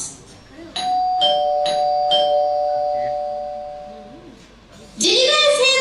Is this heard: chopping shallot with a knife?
no